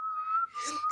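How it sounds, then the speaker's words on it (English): A single clear whistled note is held steadily for under a second, close and moderately loud, with a brief breathy break near the end. "Sorry, I can whistle, but I could not whistle it."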